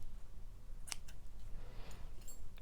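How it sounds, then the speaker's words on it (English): Scissors snip through crochet yarn in one quick crisp cut, followed by faint rustling handling sounds in a quiet room. "Now that I'm at my last row, I'm going to go ahead and cut my yarn"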